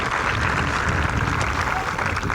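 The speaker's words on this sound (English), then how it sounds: "Give it a round of applause for us being able to be back together once again" Crowd at a 2021 high school commencement clapping and cheering, a loud, dense wash of applause over the whole short stretch.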